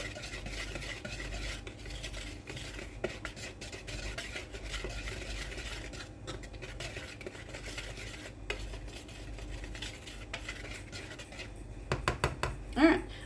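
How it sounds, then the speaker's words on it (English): A whisk stirs dry cookie ingredients in a bowl, a steady close scraping and rustling that runs continuously, with a few sharper clinks toward the end. "We're going to whisk our dry ingredients together."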